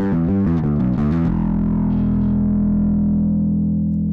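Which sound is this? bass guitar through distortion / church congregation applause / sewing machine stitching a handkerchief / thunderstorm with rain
bass guitar through distortion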